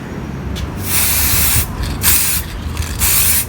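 Several bursts of car care gloss coating spray hiss in quick succession, loud and close, with short pauses between them, sprayed on a Benelli BN600i motorcycle.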